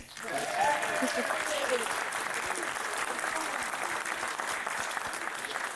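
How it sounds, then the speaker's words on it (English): Applause from the audience at Brentwood's 2025 State of the City event, greeting the guests and the mayor of Antioch: a moderately distant crowd claps steadily throughout, with a few scattered voices mixed in. "And I think we can all applause now."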